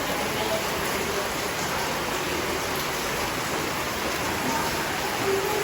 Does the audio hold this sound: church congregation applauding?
no